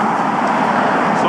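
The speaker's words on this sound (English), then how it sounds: "sorry for the traffic noise" Steady, close roar of passing road traffic beside a roadside lay-by car park in the Lake District, a continuous broadband wash of engine and tyre noise with a voice talking over it.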